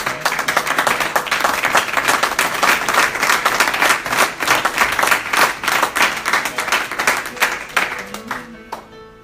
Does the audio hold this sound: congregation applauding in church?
yes